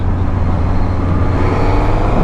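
A dense, steady roar of road noise and engine rumble fills the ride on a Suzuki GSX-S1000GT motorcycle in afternoon traffic near Macclesfield in the Peak District, loud and unbroken.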